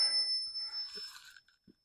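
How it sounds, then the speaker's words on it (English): An old telephone bell rings with a bright, sustained metallic tone that fades out, followed by a few small taps and clicks close by. "here is a phone bell"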